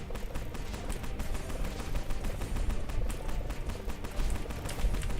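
Rapid gunfire from shooting at an enemy in the Core Keeper video game, a dense run of quick clicky shots in steady bursts, moderately loud and continuous throughout.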